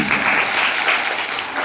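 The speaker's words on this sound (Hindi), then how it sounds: "सभी लोग बैठ जाएं और बहुत बहुत मंगल एक बात ताली पुनः बजा देंगे" Applause from a seated audience at a religious discourse, a dense, steady clapping that fills the short moment at close range.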